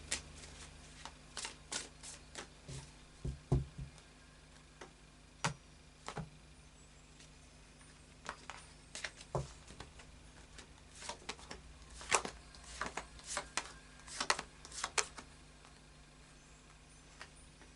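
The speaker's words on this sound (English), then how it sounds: "final shuffle of the Anna K Tarot." A tarot deck is shuffled by hand, with quiet, crisp card riffles and taps coming in irregular bursts close by over a low background hum, no talking.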